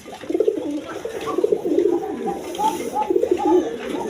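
Snake-eyed male pigeons coo in soft, repeated rolling calls close by, one after another throughout, with faint talk underneath.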